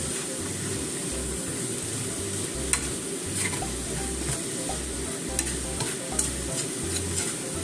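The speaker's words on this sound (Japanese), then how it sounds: "そしてしんなりするまで炒めて" Spring cabbage with pepper stir-frying in a pan, a loud, steady sizzle with rhythmic scraping and tossing pulses and occasional sharp clicks, with no voices.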